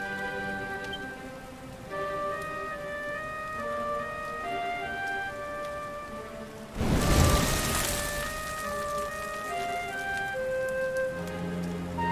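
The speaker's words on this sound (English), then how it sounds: "Looks like the rain's dying down." Rain falls in the video game Dragon Quest XI, a steady patter under chiming background music, with a sudden loud burst of noise midway.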